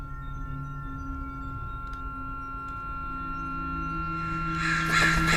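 A huge creature's caw from the horror game The LightKeeper, rising at the very end over a steady tonal drone of game ambience, loud and sudden after a quiet stretch.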